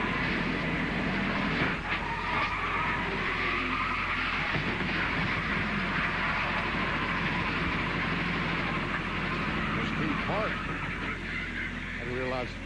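Onboard engine roar from a NASCAR stock car driven by Michael Walker in a race crash sequence, a steady loud drone with shifting pitch held for the whole stretch, nothing else breaking through.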